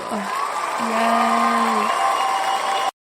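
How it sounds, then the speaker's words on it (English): A crowd cheers and applauds in a sustained wash of clapping and whoops, fairly loud and continuous, with a voice sounding briefly amid it before an abrupt cutoff. "Short clap. Short clap."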